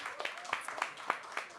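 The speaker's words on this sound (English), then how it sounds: "Please give her a round of applause" Audience clapping at a panel discussion, a brief patter of scattered hand claps of moderate loudness, steady and unbroken over the short span.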